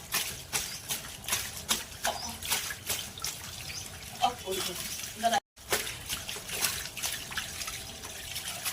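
Clothes being washed by hand with water: repeated splashing, sloshing and trickling at close range, with irregular wet slaps and drips throughout and a brief silent gap midway.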